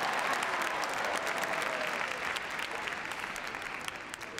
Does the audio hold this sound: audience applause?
yes